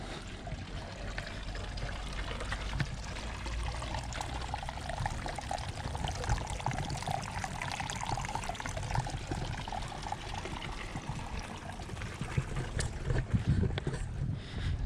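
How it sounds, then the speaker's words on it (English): A small water feature in a well-kept seaside garden near a pavilion on the Felixstowe coast, trickling and splashing softly and continuously under outdoor ambience. "Got a little water feature in this one"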